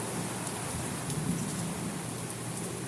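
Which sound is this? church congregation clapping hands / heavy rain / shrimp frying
heavy rain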